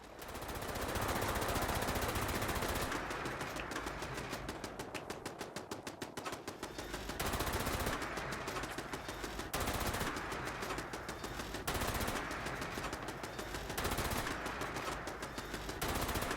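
Rapid automatic gunfire in the online shooter Fallout 76 during a daily ops mission, loud sustained bursts broken by short pauses, with repeated volleys across the clip and no talking.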